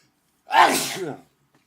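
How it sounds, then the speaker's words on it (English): One sharp, breathy sneeze erupts close by after a moment of silence, then fades quickly. "Sneezing."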